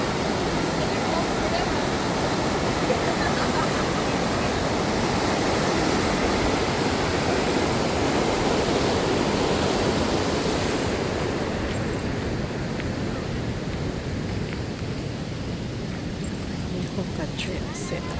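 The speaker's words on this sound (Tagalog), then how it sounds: "Ang lakas ng current, ano. Hookah Falls." Huka Falls near Taupo, New Zealand, sends a steady, loud roar of rushing water that holds for the whole stretch and eases slightly toward the end.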